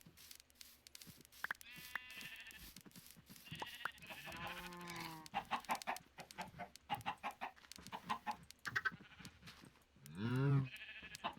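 Chickens cluck and squawk in a farming video game, several bird calls scattered across the scene alongside bleating farm animals, moderately close and without talk.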